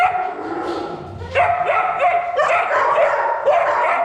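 Several dogs bark and yip at an animal shelter in a rough rhythm, some close and loud and others farther off, with a whimper mixed into the noise.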